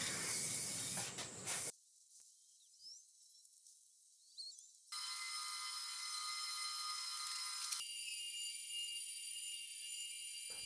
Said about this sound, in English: with a gloss black spray paint, I painted 3 coats to create a block-out bezel.